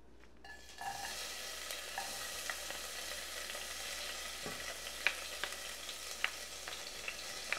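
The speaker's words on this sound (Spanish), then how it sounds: "Voy a echar la cebolla, el ajo y el jitomate que se sazone." Chopped onion, garlic and tomato hitting hot oil in a pan for a Mexican shrimp broth, a soft steady sizzle with occasional sharp pops and a utensil stirring through it.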